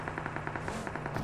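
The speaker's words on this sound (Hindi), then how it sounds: "तभी सामने से चलती गोलियां।" Rapid automatic gunfire from the mobile battle royale game BGMI, a fast even rattle of shots at low level with no talk over it.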